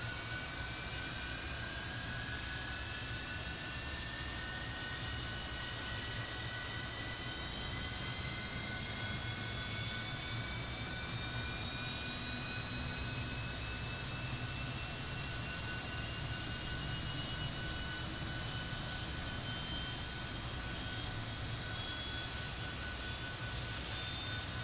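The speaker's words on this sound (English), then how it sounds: "I'm going to let this engine start up here" A Fokker F28 jet engine starts up in a flight simulator with a steady roar as its rising turbine whine climbs in pitch, continuous and alone without talk.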